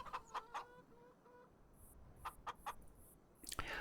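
Chickens cluck in short bursts in Farming Simulator 25, scattered and fairly close, with a steady low hum beneath them and no talking.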